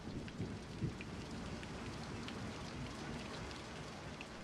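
Steady rain falls at night, pattering on surfaces and running in gutters, with a low rumbling undertone of distant thunder throughout and no voices.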